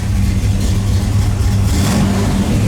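A loud V8 engine in a Z28 fitted with new roller rockers rumbles at a steady idle up close, its low, lumpy throb continuing without a break.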